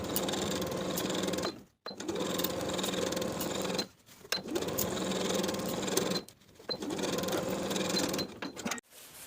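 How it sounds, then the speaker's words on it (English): A sewing machine stitching the side seams of a dress bodice, running in four steady bursts with short pauses between, close and continuous, no talking. "Then we'll sew from the bottom of the front and back main pieces across the seam and down to the bottom of the front and back lining pieces"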